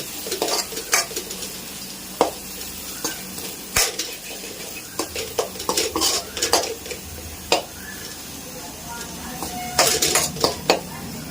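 Liver fry is stirred in a pan with a metal utensil: irregular clinks and scrapes against the pan over a soft sizzle, close up, with a denser cluster of knocks near the end.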